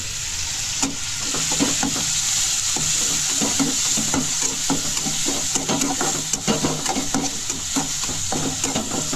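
Onions frying in oil while being stirred, with a close, loud sizzle cut by repeated scraping spoon strokes in a quick, uneven rhythm and no talking.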